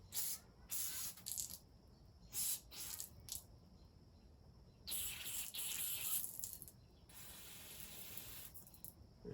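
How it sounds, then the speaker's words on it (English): Short bursts of aerosol cleaner sprayed onto a grimy banjo bolt on a Volvo S80 PCV system, several hissing sprays of a second or so each, close and moderately loud, with quiet pauses between. "And then on the banjo bolt itself, just give it a couple sprays."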